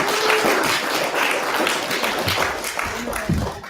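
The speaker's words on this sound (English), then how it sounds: "So let's give a warm round of applause for Reverend Randy" A church or gathering crowd applauds a reverend as he is introduced, with loud clapping and some cheering mixed with voices and crowd noise through a few seconds before fading at the end.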